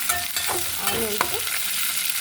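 Onions fry in oil for foxtail millet upma, a steady, close sizzle with soft stirring scrapes throughout and no voices.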